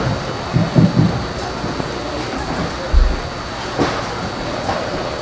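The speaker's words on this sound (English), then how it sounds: "It's raining pretty well." Steady rain falls outdoors at a girls' high school soccer semifinal, forming a continuous hiss with a few low thumps and brief bumps, and no talk over it.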